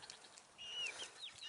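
Backyard chickens, including young roosters and a Buff Orpington rooster, make faint high chirps and soft clucks at a distance, with no one talking.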